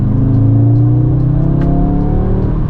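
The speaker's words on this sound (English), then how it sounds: "man, this car goes, whoo, wow, and the exhaust notes as well is absolutely amazing." A 2023 Audi S3 sport sedan in dynamic drive mode accelerates with a loud, steady exhaust note and a low engine drone that climbs gradually, heard from inside with no talk.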